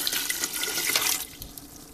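Tap water runs steadily into a large stockpot for vegetable stock, a bright continuous rush that tapers off near the end, close and loud with no talking.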